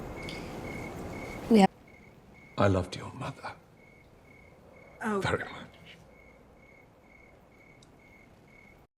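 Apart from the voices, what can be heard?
crickets chirping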